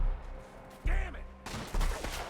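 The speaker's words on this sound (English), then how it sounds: "These fucking pistols are hitting hard." Pistol shots in a Wild West gunfight with John and a gang of men, sharp loud reports in a few bursts, with some shouting between them.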